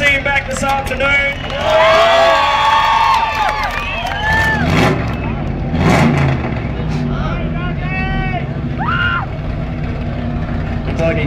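A Ford Falcon GT does a burnout at the Revheads Narrogin 2009 event, its right-hand tyre shredded and flames underneath. The engine revs loud and close over a roaring backdrop while a crowd cheers throughout.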